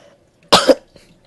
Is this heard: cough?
yes